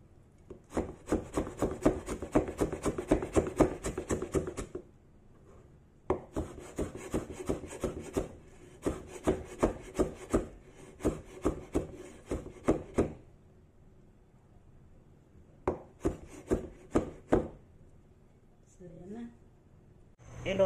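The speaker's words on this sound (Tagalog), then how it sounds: "magkakat din tayo ng luya" A knife chops peeled ginger on a wooden board in a kitchen, with rapid, steady strokes that come close and crisp in several bursts. Short pauses separate the bursts, and a person talks between the cutting.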